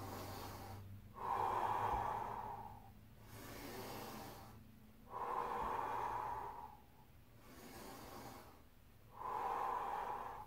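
Someone breathes slowly in and out while holding a hero squat mobility exercise. Three clear, close breath cycles each rise to an audible rush and then ease off, with no talking.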